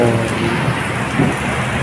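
Heavy rain pours steadily and loudly, a dense continuous hiss with a low rumble beneath it and no voices.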